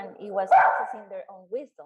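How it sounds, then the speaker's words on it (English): A dog barks in a few sharp, close bursts while fighting with a neighbour's dog, cutting across a person who is talking. "That's my dog, sorry. It's just fighting with a neighbor dog."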